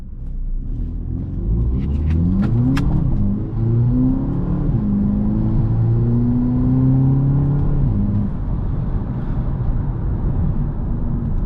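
A stock VW Polo GTI engine revving and accelerating, recorded from inside the car: a loud, steady rumble whose pitch climbs through rising revs, briefly dips, then climbs again before settling.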